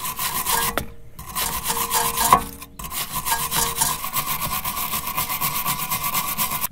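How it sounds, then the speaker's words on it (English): A wire brush scrubs rust and buildup off rear brake parts of an Audi A3 TDI, giving a steady, close, rasping scrape in continuous strokes with one short pause, and no talking. "And then your wire brush."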